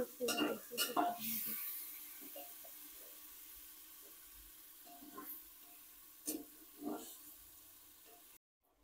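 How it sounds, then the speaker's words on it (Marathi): Chicken biryani being stirred in a pressure cooker, with a few scraping and clinking utensil sounds against the metal pot and light sizzling beneath, scattered over several seconds at close range. "त्याला एकदा हलवून घ्यायचं चांगलं, एकदा कुकरमध्ये चांगलं फिरून घ्यायचं त्याला."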